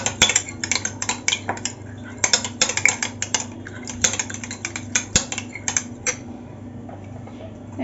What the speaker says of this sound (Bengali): পরিমাণ মতো টক দই নিয়ে নিয়েছি ভালো করে ফেটিয়ে নেবো